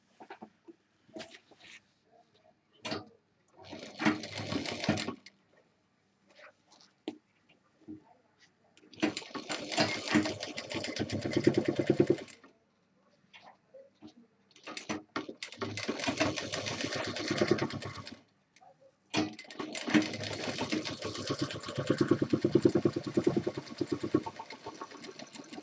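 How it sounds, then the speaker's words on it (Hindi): Sewing machine stitching piping onto the zip of a medium-size 20-inch tour bag, running in three or four long bursts of steady whirring stitches separated by pauses. "इसके ऊपर हम पाइपिंग चढ़ा के सिल देंगे"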